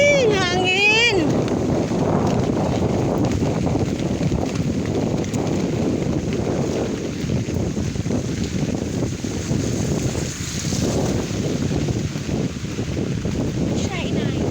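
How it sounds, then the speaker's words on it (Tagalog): Strong typhoon wind roars steadily at night over a flooded road, a loud continuous gusting rush with buffeting against the microphone, while a person's voice is heard briefly near the start. "Hangin!"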